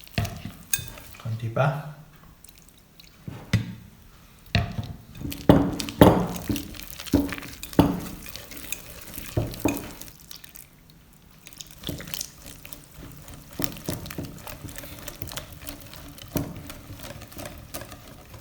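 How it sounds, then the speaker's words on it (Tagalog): Pancake batter being whisked in a bowl as milk is poured in, with uneven bursts of clattering strokes that pause midway and then resume more softly; a voice speaks briefly. "Paunti-unti lang kasi whisk natin yung mga ingredients."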